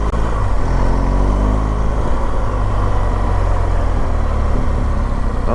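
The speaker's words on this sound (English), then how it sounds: "Just a little more kind of a truck tire howling to them, and like I say, the slightest of buzz through the bars" BMW R1200GSA motorcycle riding on knobby TKC80 tires, a steady loud engine drone with a low tire hum and heavy wind rush, continuous with no pause.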